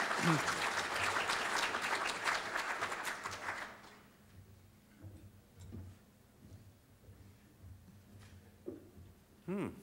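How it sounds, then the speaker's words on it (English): An audience at the Sonoma County Economic Summit 2011 gives a loud round of applause for a panel coming on stage. The clapping fills the first few seconds, then stops, leaving a quiet room with a few faint knocks and thumps. "Let's give him a round of applause for our panel."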